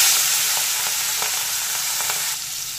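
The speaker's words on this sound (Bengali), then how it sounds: "তেল গরম হয়ে গেছে, নুন হলুদ মাখানো চিংড়ি মাছগুলোকে ছেড়ে দেবো এর মধ্যে" Turmeric-and-salt-coated shrimp fry in hot mustard oil in a pan, making a loud, dense, continuous sizzle close up with faint occasional ticks of stirring.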